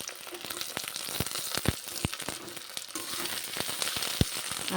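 Sliced onions and capsicum frying in a pan for chilli chicken, a steady close sizzle broken by sharp clicks and clatters of stirring.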